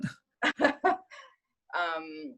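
Dogs indoors in a room give a quick burst of three or four sharp barks, then a drawn-out whining yelp, fairly faint and slightly distant.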